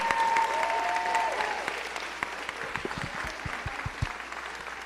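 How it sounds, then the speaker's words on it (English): A school audience applauds students after their musical, steady broad clapping that holds across the whole stretch, with a few sharp louder claps standing out near the end and faint crowd murmur beneath. "Can we give them one more big round of applause?"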